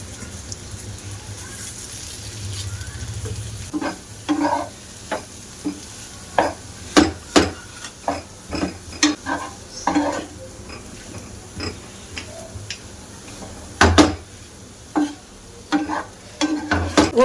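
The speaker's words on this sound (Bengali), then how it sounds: "এবার আমি ওর মধ্যে যে আলু সিদ্ধ করে গেছিলাম আলুগুলো ভেঙে দেবো" Boiled potatoes being broken up and stirred into frying spices in a pan, with a steady soft sizzle under a run of sharp, irregular scraping and tapping strokes from a spatula, close by and growing busier after the first few seconds.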